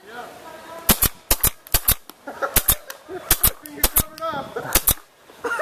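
Rapid sharp video game gunshots crack out in quick pairs and bursts, loud and close, with a player talking briefly between the shots.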